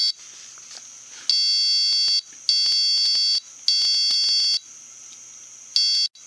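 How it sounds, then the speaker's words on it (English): An Arduino board gives out loud, shrill electronic beeps in long, steady bursts with short gaps between them, running old code. Faint clicks sound underneath, and no one speaks. "And it's beeping from the old code that's in there."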